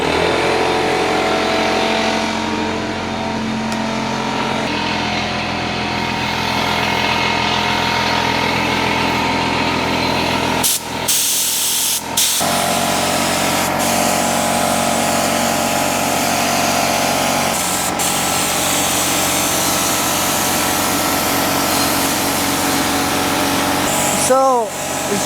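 Air compressor running loud and steady while a spray gun sprays glue in a shop working on a 1970 Chevelle, a constant mechanical drone with brief hissing bursts and gaps.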